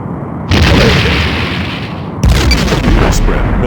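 Torpedoes fire and explode in the space combat game Star Trek: The Next Generation – A Final Unity. Two heavy booming blasts land about two seconds apart, each followed by a rumbling decay.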